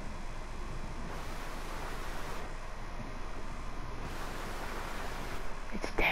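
A waterfall in the Fortnite video game, heard as a steady, even wash of broadband rushing water, constant and moderately loud for the whole stretch with no talking over it.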